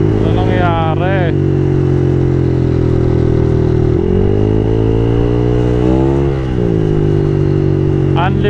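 A Honda Click i125 motorcycle with a sputtering engine fault runs loudly and up close, its tone rising and falling unevenly, while a person talks over it.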